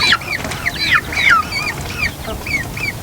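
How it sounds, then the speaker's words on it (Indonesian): Chickens clucking close by in a yard where hens are laying eggs, a busy stream of loud, overlapping squawks and cackles with no talking. "Tak tahu yang mana satu ayam bertelur ini."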